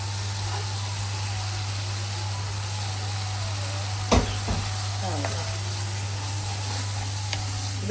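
Spices and jackfruit fry in a pan with a steady close sizzle over a low constant hum, broken by a few sharp scraping stirs of a spatula; no talking.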